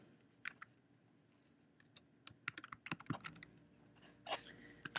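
Quick, light clicks of fingers typing a first name on a computer keyboard, close and fairly quiet, arriving in irregular bursts that grow busier toward the end.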